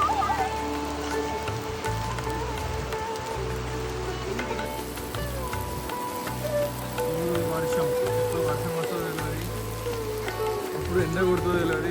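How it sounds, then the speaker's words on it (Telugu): Rain patters steadily on surfaces in a narrow market lane in Himachal, a continuous hiss of drops with low rumbling background noise and some faint voices in the distance. "మళ్ళీ వర్షం స్టార్ట్."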